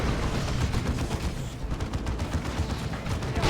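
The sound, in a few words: Librarian shooting at a mine in video game Dawn of War 2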